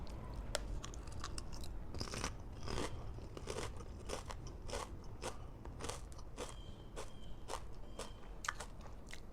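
Jalapeno potato chips eaten with sardines crunch loudly and close up, a steady run of sharp crackling bites and chewing with no talk over them.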